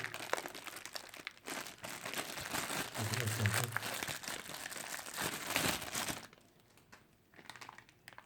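Parts of a ZD-917 vacuum soldering station are pulled from plastic packaging, producing close, quiet crinkling and rustling in bursts that fade into near silence at the end.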